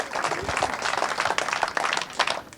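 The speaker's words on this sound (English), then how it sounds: "A huge round of applause, please, for your Senior Rotax finalists" Applause from a crowd at a British kart championship event at Whilton Mill, greeting the Senior Rotax finalists: steady dense clapping sustained throughout, moderately distant and without speech over it.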